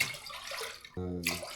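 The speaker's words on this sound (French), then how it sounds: "On met 6 tasses d'eau." Six cups of water are poured into a pot for mac and cheese, giving a short gurgling splash that ends with a steady liquid stream, with no voices heard.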